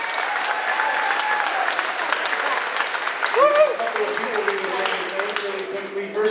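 Steady applause from an elementary school audience for graduates, many hands clapping continuously throughout, with a voice speaking briefly over the clapping.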